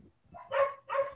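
A dog barks twice in quick succession at moderate volume, two short sharp yaps in the background during an indoor live session.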